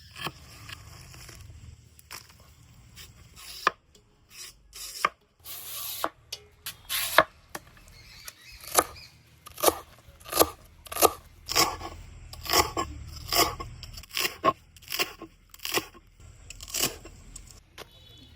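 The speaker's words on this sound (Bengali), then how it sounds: "এইভাবে কিন্তু প্রত্যেকটা কলা পাতের ডাটা ভালো করে পিস করে না কাটিয়ে নিব" Banana leaf stalks chopped into pieces, a run of crisp, crunchy cuts landing in an uneven rhythm, sparse at first and then quick and repeated, close and fairly loud.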